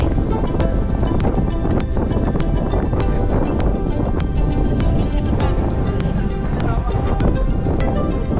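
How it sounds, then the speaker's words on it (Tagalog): Strong gusty wind roars continuously with buffeting bursts against the microphone on a mountain road in Malico, San Nicolas, Pangasinan, loud and close, no voices. "mahangin dito"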